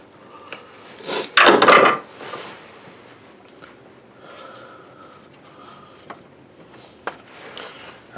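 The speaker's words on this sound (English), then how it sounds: "Take a screwdriver and pry it off real gentle so you don't break it." Plastic headlight cover on a 2011 GMC Sierra pried off with a screwdriver: a short loud scraping snap of plastic, followed by faint scattered clicks and rubbing sounds, no talking.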